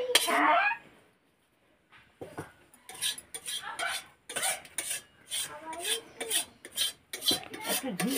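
Food cooks in pots on a wood-fired stove during a home puja, with sparse metallic clinks and scrapes of utensils against pots, fairly quiet, and a brief voice heard near the start.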